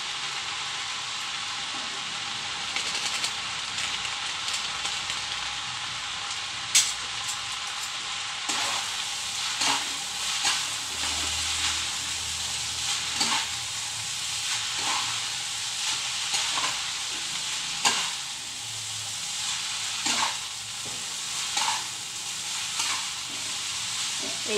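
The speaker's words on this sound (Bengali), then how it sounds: "এইভাবে আমি ভালো করে চাউমিনটা সবজিগুলোর সঙ্গে ভেজে নেব" Chowmein noodles stir-frying with vegetables in a pan, a continuous moderate sizzle broken by repeated scraping and tossing strokes of the spatula over nearly half a minute, no talking.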